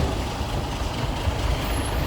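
A tanker truck's engine idling close by as it prepares to tow an L300, a steady low rumbling drone with a faint high hiss, no voices.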